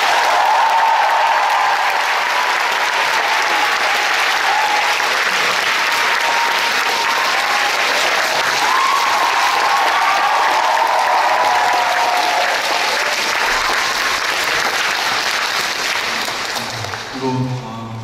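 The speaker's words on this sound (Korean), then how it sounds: "그분들께 큰 박수 부탁드리겠습니다" Long, thunderous audience applause at the end of a stage performance, a dense, steady roar of clapping that holds for over fifteen seconds, with a few cheers inside it, before tapering off as a voice returns.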